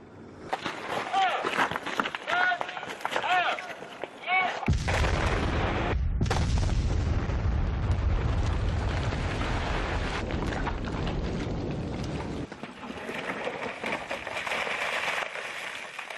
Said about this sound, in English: As the detonation work continues, Tang begins to worry about the structure of the rocks themselves.